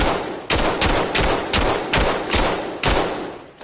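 Hip-fire gunshots from the VR shooter game Vail, a loud close series of about eight sharp reports at a quick, fairly even rhythm, each followed by a short decaying tail, with no talk.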